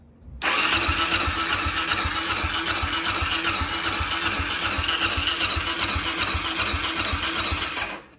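An Arctic Cat DVX400 ATV engine cranks steadily on its starter without catching, a loud, close, rapid rhythmic churning that runs unbroken for several seconds before cutting off.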